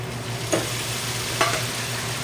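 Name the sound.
tomatoes frying in pan with chilies and garlic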